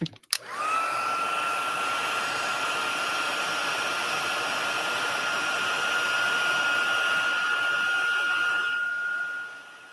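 A heat tool switches on with a click and whirs in a steady, close drone for several seconds as it heats craft embossing on a Christmas card project. The sound fades slightly near the end.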